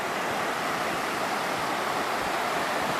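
High water rushes along the Upper Elk River in a loud, steady, unbroken roar that fills the whole stretch, with no voices over it.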